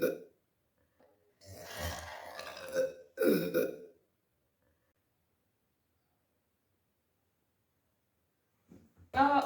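Loud, close burps after drinking Sprite come in two bursts near the start, followed by a long silence and another short burp at the end; no talking is heard.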